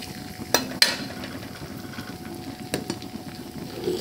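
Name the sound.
cumin and chillies sizzling in hot oil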